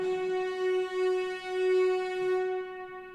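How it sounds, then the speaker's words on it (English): A classic orchestral strings plugin in an Abbey Road low strings patch holds one sustained bowed note with a rich, even tone and gentle swells, fading out at the end, with no talk. "That started off as Abbey Road strings."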